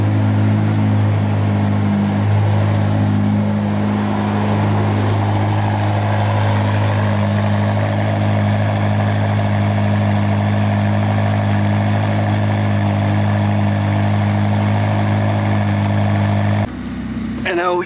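A 2021 Ferrari SF90 Stradale hybrid supercar runs steadily after start-up, a loud continuous low idle hum close by that holds for many seconds before dropping slightly near the end.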